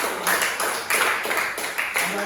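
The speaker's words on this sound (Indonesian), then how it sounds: "Tepuk tangan buat kelompok 1" Classroom students clap for a group after a presentation, several short bursts of hand claps in quick uneven rhythm, fairly close, with a voice mixed in.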